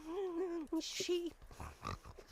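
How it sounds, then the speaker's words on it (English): A sheep from the Loom video game bleating in short wavering calls at moderate loudness, followed by a few softer grunting sounds. "Sheep."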